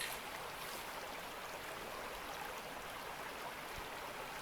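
Stream water pouring into a gold pan in the Gold Rush video game, a steady broadband rush of running water that stays even and continuous throughout with no voices.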